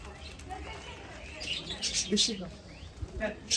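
Caged budgerigars in a plant-filled aviary give a few brief high chirps, mostly around the middle, mixed with a person talking nearby over faint background noise.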